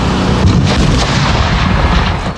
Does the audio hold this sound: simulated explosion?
yes